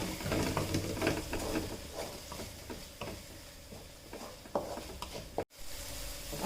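Asafoetida being stirred into a hot frying pan with spinach and lentil curry masala, a dense close sizzle with rhythmic scraping strokes of a spoon and a brief dropout near the end, no voices.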